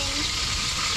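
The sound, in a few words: frying samaral fish in a pan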